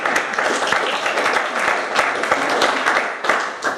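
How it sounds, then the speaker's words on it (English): A room full of people at a chiropractic clinic talk applaud themselves, loud dense clapping with sharp individual claps standing out, sustained evenly for several seconds and heard up close. "Give yourself an applause."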